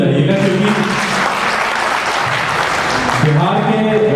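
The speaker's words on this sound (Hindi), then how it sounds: "एक बार जोरदार ताली बजाइएगा" Loud, dense applause from a crowd at a Hindu religious gathering in a temple hall, steady throughout, with a voice speaking over it briefly at the start and again near the end.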